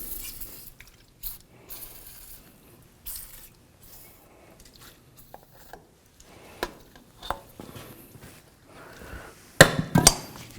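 Sharp metallic hammer strikes driving the axle through the front wheel hub of a 2003–2009 Toyota 4Runner, scattered irregular knocks growing louder toward the end, with a cluster of hard close blows near the finish.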